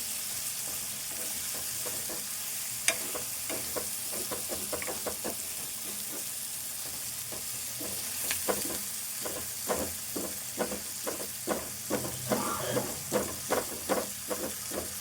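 Eggplant and dried fish curry frying in a pan on the stove, with a steady sizzle throughout and repeated scraping and stirring strokes that grow more rhythmic and prominent in the second half.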